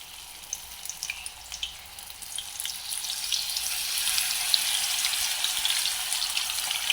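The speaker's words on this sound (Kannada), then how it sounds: "ಎಣ್ಣೆ ಬಿಸಿ ಆದರೆ ಡೈರೆಕ್ಟ್ ಹಾಕುದೆ ಎಣ್ಣೆ ಬಿಸಿಯಾಗಿದೆ" Soya chunks dropped into hot oil, frying with a steady crackling sizzle that builds and thickens over several seconds, close and unbroken, with no talking.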